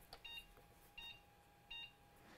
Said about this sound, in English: Six beeps means the card is not detected